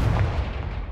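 The Confringo fire spell in Hogwarts Legacy bursts as a loud, close, booming blast with a dense rumble that holds through the whole short moment.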